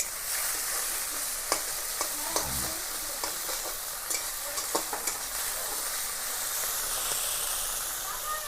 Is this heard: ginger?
yes